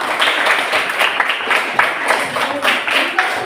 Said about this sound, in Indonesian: Kasih tepuk tangan sekali lagi untuk kelompok